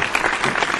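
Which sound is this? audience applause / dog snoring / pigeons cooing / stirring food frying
audience applause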